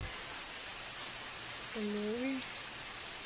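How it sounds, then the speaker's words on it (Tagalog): Steady heavy rain hisses evenly throughout, with a short voice heard briefly partway through. "Kusuga sa ulan, uy."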